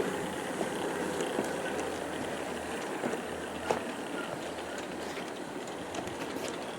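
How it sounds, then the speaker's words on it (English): A G scale 1/29 Denver & Rio Grande Western model train of 40 cars runs steadily over a viaduct outdoors, a continuous low rolling rumble with faint wheel clicks, fairly distant, no talk. "Now the train is coming through the viaduct."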